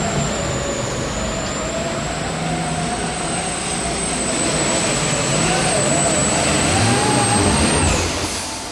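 A super stock tractor roars steadily at a tractor pull, loud and sustained with a high whine riding over the engine, then cuts off near the end.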